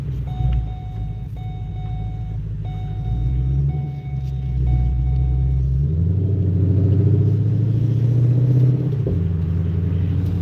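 A 2021 Shelby GT500 with a supercharged 5.2L 760 hp engine rumbles loudly under throttle, the deep drone swelling partway through, while a repeating electronic chime beeps over it early on.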